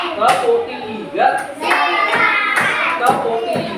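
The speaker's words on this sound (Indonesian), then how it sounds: "Tepuk tiga." Children in a primary school classroom clap their hands together in short rhythmic bursts during a clapping game, loud and close, with a teacher's voice and children's voices mixed in.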